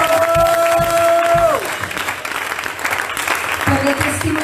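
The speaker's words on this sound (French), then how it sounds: "Volevo fare un applauso a Dio" Congregation at a church conference in France breaks into sustained applause in praise of God, a broad wash of clapping that swells after a held musical tone fades and carries on to the end.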